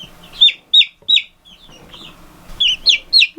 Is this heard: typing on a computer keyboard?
no